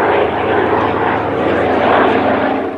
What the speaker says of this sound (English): A Spitfire flypast provided the final piece of living history